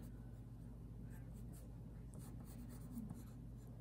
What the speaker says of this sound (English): I usually don't even draw this hard into the paper with the lines this dark